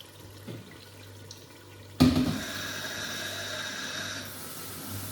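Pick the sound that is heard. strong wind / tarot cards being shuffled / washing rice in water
washing rice in water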